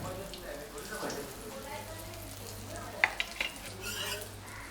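Rava-coated brinjal slices frying in a pan over medium to low heat, a continuous soft sizzle with a few sharp clicks of a utensil against the pan.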